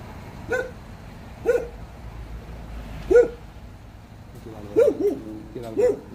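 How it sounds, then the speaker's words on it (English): A dog barks five times in short, separate bursts with pauses between, moderately loud over a low steady background hum. "otherwise you guys are going to hear that dog barking the whole damn time"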